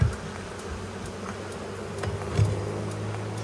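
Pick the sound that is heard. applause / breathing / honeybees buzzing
honeybees buzzing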